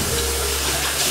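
Tap running into a bathtub for a bath, a loud continuous rushing and splashing of water, steady and close, with no speech.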